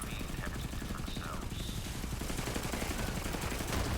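Rapid, sustained automatic gunfire from an infinite-ammo gun in the video game Borderlands 3 hammers steadily throughout, while voices talk over it.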